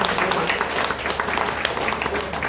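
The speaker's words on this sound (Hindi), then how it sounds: "प्लीज उनके लिए जोरदार ताली।" An audience claps steadily in a hall, dense and continuous applause without a break, loud and close.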